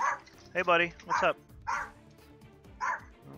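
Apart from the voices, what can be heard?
dog barking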